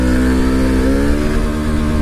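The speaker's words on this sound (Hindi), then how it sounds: "यहाँ पर भाई पहला गियर डाल दिया और यहाँ पर बाइक को भगाता हूँ थोड़ा" A modified Yamaha FZS Version 2 motorcycle with a loud aftermarket exhaust accelerates hard in first gear, its engine note droning steadily and rising close to the listener without pause.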